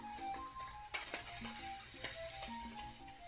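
Tilapia fillet sizzling on a grill grate while being basted, a soft steady sizzle with a few light taps and clicks from the utensil, quiet and close over faint background music.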